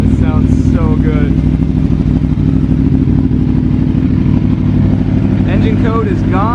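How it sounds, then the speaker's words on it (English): An Aprilia Tuono V4 sport motorcycle engine, fitted with a race ECU flash and sprint filter, idles loudly and close by with a deep, throbbing rumble, while a person talks over it at the start and end. "I love this bike. It sounds so good."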